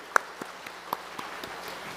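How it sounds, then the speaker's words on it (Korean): A church congregation claps for the choir at a year-end service: a few faint, scattered claps spaced out over two seconds against a quiet room, more like applause trailing off than a full ovation. "영광의 박수입니다"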